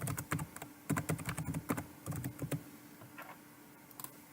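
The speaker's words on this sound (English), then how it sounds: "Type your keyword into the search box." Keystrokes on a computer keyboard while entering a search keyword, a quick irregular run of close, crisp taps that trails off into a few final presses.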